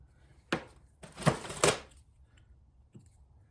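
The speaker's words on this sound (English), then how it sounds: "and cut it with scissors." A few crisp snips and rustling cuts through material, three close together in the middle and a softer one after, with no talking.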